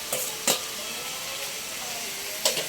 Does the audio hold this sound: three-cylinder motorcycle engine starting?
no